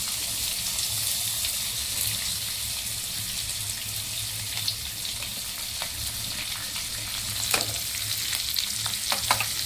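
Onions frying with red chillies in a pan, a steady dense sizzle with occasional stirring scrapes and small pops, close and even throughout.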